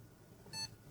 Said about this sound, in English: you're going to hear a beep. You're going to get a post.